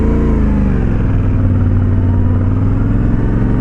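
Yamaha Ténéré 700 motorcycle engine running steadily up close through smooth gear changes, a loud continuous mid-pitched drone with shifting harmonics and no speech.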